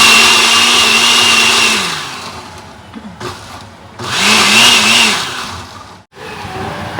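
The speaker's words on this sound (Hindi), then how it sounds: "जल्दी से इनको करते हैं ब्लेंड" A kitchen blender grinds tomato, green chili and onion into a paste in two loud, whirring bursts, with a short quieter pause between them and a brief stop near the end.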